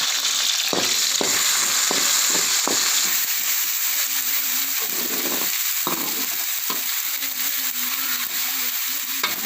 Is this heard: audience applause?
no